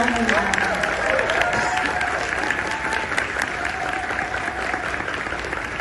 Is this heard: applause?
yes